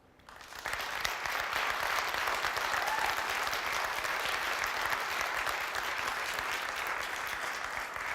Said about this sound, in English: Please applause if you think that's the winning one.